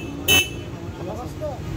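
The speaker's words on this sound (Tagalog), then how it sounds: "Horn po." Single short honk from the horn of a Kymco Skytown 150 scooter, loud and close, lasting a fraction of a second with talk around it.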